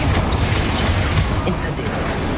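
Confringo blasting spell going off in Hogwarts Legacy combat: a dense, rumbling explosion with a heavy low boom that fills the whole moment without letting up.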